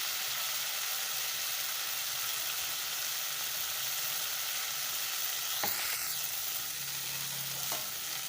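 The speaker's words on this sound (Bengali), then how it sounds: "পুরটা একটু তেলের মধ্যে নাড়াচাড়া করে নিই।" A ground prawn stuffing paste sizzles in oil, a loud, even frying hiss with a couple of scraping stirs of a spatula against the pan.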